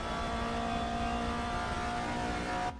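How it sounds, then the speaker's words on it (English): A steady, high transmission whistle from a race car in Automobilista 2 holds over a constant engine drone, loud and unbroken, and cuts off sharply at the end. "I like that transmission whistle"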